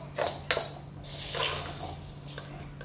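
Raw rice is poured into hot sand in a pan while puffed rice is being made at home, giving a couple of sharp granular rattles followed by a soft, sizzling hiss.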